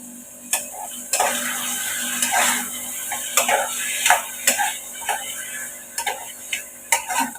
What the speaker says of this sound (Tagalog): Hahaluin natin ng mabuti.